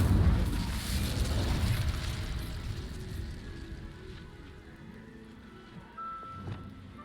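A fire spell cast in the Hogwarts Legacy video game erupts in a loud, low booming burst that dies away into a fading rumble, with a small pop near the end.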